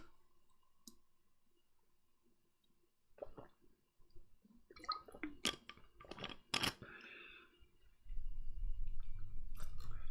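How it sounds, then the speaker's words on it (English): A person pausing to drink water, with quiet sips, swallows and clicks of a cup or bottle close by, followed by a low rumbling handling noise near the end. "Give me a second, drinking some water."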